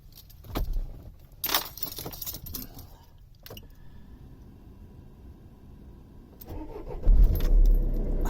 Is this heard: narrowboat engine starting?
yes